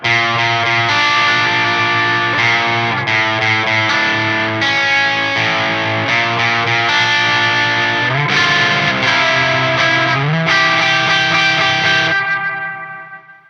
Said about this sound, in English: a lot of reverb in, and then I bumped the colour up, so really high-end reverb poking through